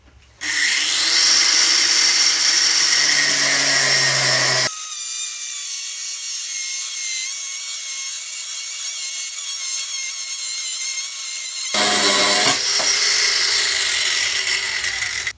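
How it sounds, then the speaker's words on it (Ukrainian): A loud, close Metabo cordless angle grinder whines steadily while cutting 40 mm steel rebar, its pitch dropping under load in the middle before rising again near the end. "Болгарка ріже не зупиняється."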